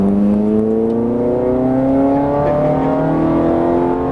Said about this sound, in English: go down to third and on the throttle, there you go